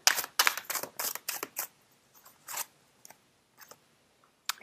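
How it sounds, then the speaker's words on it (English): Tarot cards being dealt and laid out on a table, a quick run of crisp papery snaps and slaps that thin out into a few sparse taps, close and alone with no talking. "Let's lay out three more cards."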